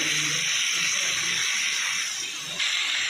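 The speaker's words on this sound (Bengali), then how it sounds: "একটু ভিন্ডিটা এই পেঁয়াজের সাথে একটু ভাজা ভাজা করে দেবো।" Okra frying with onions in a pan gives a steady, close sizzling hiss that fills the whole stretch without pause, with no talk over it.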